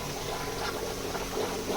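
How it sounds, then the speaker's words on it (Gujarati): Water gushes steadily from a freshly bored horizontal hole in the wall of a well, a continuous close, rushing and bubbling flow with no talking over it. "દારમાં માર્યો દાંટો મારતા તરત પડમાંથી પાણી ચાલુ થઈ ગયું"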